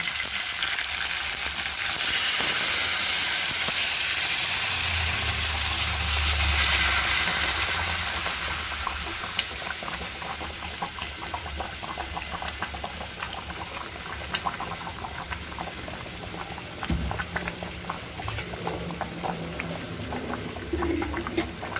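Water poured into a pan of frying chicken curry with potatoes, a loud rushing hiss and bubbling sizzle for several seconds that eases into steady, softer simmering crackle with faint stirring clinks.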